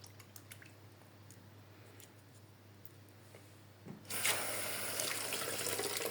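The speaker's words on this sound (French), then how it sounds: "Je vais mettre un petit peu d'eau dessus pour voir à peu près ce que ça fait." After a quiet stretch with faint clicks, a tap suddenly opens and water runs steadily and fairly close, splashing onto tablets with water-soluble film below.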